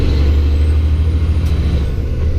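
A Western Star truck runs close by with a steady, heavy low engine rumble, unbroken and loud throughout, with only a faint brief hiss partway through.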